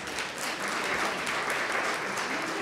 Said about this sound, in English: Give them a round Merritt applause.